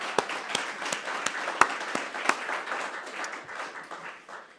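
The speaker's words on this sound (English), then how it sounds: "join me again in giving both of them another round of applause" Audience applause at a company's annual general meeting, a steady mass of clapping from a seated crowd with a few sharper nearby claps, holding level then slowly thinning toward the end.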